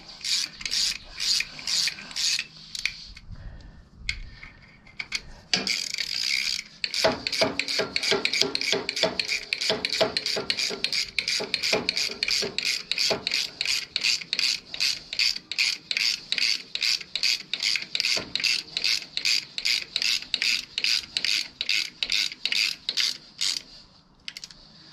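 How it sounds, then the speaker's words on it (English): A ratchet strap is cranked tight on a Wheel Horse tractor, with a long run of quick, evenly spaced metallic clicks up close. Scattered handling rattles come first, then a steady ratcheting rhythm continues to the end. "and then hook the ratchet strap up"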